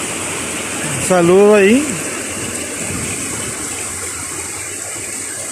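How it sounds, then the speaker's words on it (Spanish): Water rushes steadily along a stream fed by a waterfall at Cañón del Diablo, a loud constant outdoor roar with someone briefly speaking over it. "viene corriendo el agua por el arroyo desde la cascada del péndulo"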